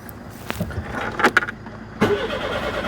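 A Citroen GSA that will not start cranks in short bursts, with a few sharp mechanical knocks and whirs followed by a longer engine turn-over near the end, close by and without talking.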